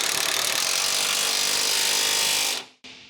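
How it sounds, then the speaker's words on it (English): Pneumatic impact wrench with a 21mm deep socket tightening a mounting bolt on an adjustable rear track bar of a 2007-2018 Jeep Wrangler JK, a loud continuous rattling whir for over two seconds that cuts off abruptly, close up. "Using a 21mm deep socket with the impact wrench and a 21mm wrench, tighten the other mounting bolt."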